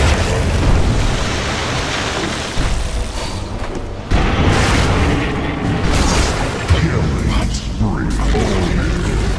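Tower destruction explosion in a Dota 2 match, heavy rumbling booms and crashing blasts layered with continuous game noise and a voiced announcer across nine seconds.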